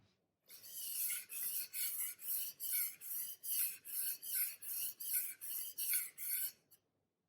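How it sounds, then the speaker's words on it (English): A knife is drawn back and forth across a whetstone in about fifteen steady, evenly spaced rasping strokes, close and clear with no talk. "When you start sharpening the knife, there will be dirt on the surface of the whetstone"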